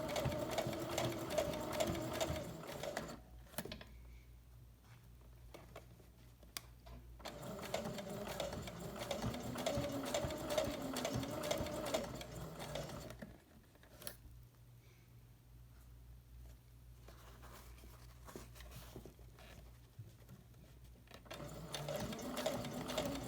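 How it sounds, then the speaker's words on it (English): A sewing machine stitching along the edge of a tote bag's fabric, running in long steady whirring stretches broken by brief stops, close and moderately loud, alone without talk. "I'm trying to stitch really close to the edge without going over."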